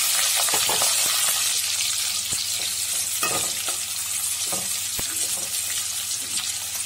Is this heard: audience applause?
no